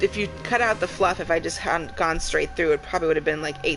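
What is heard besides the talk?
No everyday noises stand out.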